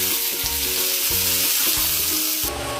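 Onions hitting hot mustard oil with cumin seeds, sizzling and frying steadily throughout, with periodic low thumps of stirring in the pan; no talk.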